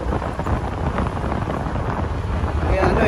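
Strong wind buffets the microphone on the road from Daang Hari to Naic, Cavite, producing a continuous rumbling, gusty roar that fills the whole stretch.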